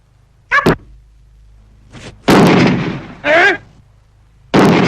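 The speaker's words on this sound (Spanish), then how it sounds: "Los 2 disparos es la señal de ataque." Sharp gunshot bursts fired as an attack signal in a 1975 Argentine animated cartoon, loud and close, with animated voices talking and exclaiming between the shots.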